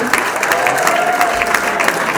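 Party crowd applauding Bappi Lahiri at a Showbiz India 16th anniversary celebration, steady dense clapping throughout, fairly loud and close, with a faint sustained tone running beneath the applause.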